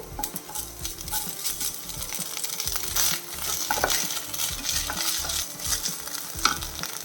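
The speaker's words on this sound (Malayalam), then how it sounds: "ഒരു ടേബിൾ സ്പൂൺ ഇഞ്ചി വെളുത്തുള്ളി പേസ്റ്റ് ഇട്ട് കൊടുക്കുന്നേ" Squid frying in a pan with a tablespoon of ginger garlic paste, giving a steady close sizzle with stirring scrapes and light utensil clinks throughout.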